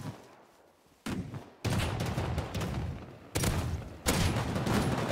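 Gunfire in the video game Rust: several loud, abrupt bursts of shots break in at irregular intervals, each followed by sustained crackling reverberation, with a quieter lull at the start.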